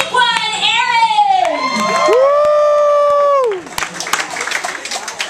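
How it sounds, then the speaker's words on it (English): Audience at a karaoke show cheers and shouts in a loud burst of high, excited whoops and screams, followed by clapping and crowd noise, close and energetic. "Keep the energy up in the house. Ready? Make some noise for Moniqua and Aaron."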